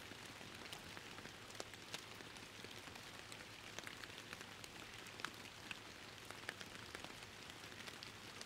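Steady rainfall patters across a lake in Fishing Planet, a quiet continuous wash of drops with occasional sharper splashes over a low droning hum.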